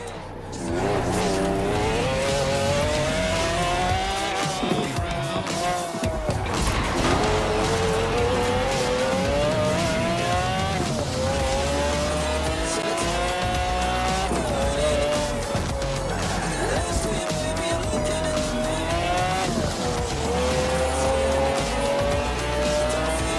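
A McLaren F1 in Forza Horizon 4 roars continuously, its engine note climbing and dropping through gear changes as the tires squeal and skid, loud and close throughout.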